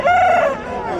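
A heavy-sized rooster at a Sunday hen market in Piler crows once, loud and close, with a long drawn-out call that trails off, no talking.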